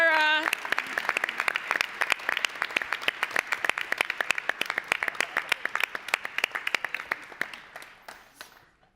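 An audience at a pitch competition breaks into a long round of applause for the winning team, dense clapping at first that thins out and fades toward the end, with a voice briefly at the start.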